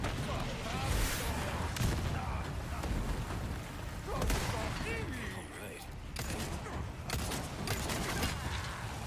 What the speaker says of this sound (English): And by snipers, I mean some guy with a rocket launcher.